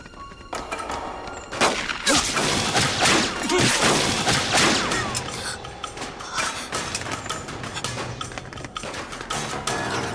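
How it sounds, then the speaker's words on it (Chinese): Gunfire echoes in a wartime spy drama scene, with a scatter of sharp cracks and bursts over a busy, noisy background. No one speaks. "哪来的枪声？"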